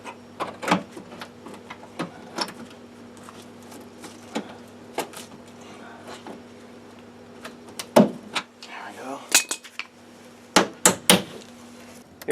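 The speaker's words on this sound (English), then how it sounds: "You're going to want to fold and hammer this lip inwards to make it nice and clean" A hammer knocks the folded lip of a Bushwacker fender flare inward on the rear of a 1999-2004 Jeep Grand Cherokee. The close, sharp taps come in irregular bursts, mostly single strikes with a quick flurry near the end, over a faint steady hum.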